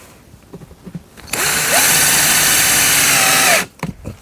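A power drill bores holes into a wooden beehive box, one loud steady whine lasting about two seconds, rising in pitch as it spins up, with quiet handling noises before and after.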